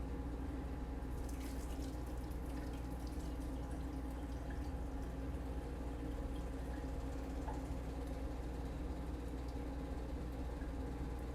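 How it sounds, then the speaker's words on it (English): Tap water runs steadily into a pot being rinsed in a sink, a faint, even rushing flow that lasts the whole time. "Now, I'm going to take this off of the heat and go and rinse it out."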